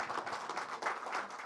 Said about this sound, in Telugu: ఐ థింక్ మనందరం కూడా గట్టిగా క్లాప్స్ కొట్టాలండి ఒకసారి